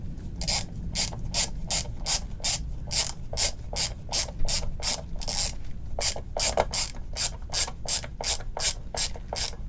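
A clamp being tightened while a guitar bridge is glued gives a rapid series of crisp ratcheting clicks, close and loud, in about two dozen evenly paced bursts with a short pause partway through.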